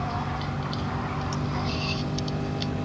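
A race car in a racing video game drives a hot lap through an endurance chicane, its engine a steady, continuous drone with faint higher chirps above it.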